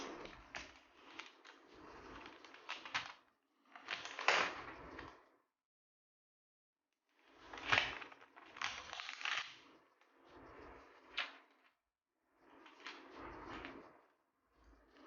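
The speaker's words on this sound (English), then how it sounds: "Now here's the sweet sound of plastic unpeeling." Plastic protective film crackles as it is peeled off a new laptop during an unboxing, in several close, moderately quiet bursts of crinkling separated by short pauses, with no talking.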